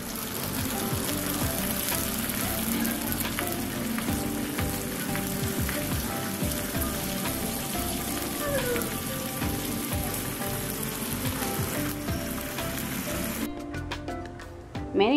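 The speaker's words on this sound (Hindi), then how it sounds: "सारी चीज़ों को अच्छी तरह से उबाल आने तक 1 से 2 मिनट तक हम इसे इसी तरह से पकने देंगे" Water and sugar boiling in a pan for khaman dhokla tempering make a dense, continuous bubbling sizzle throughout, steady and close, ending with a few sharp clicks.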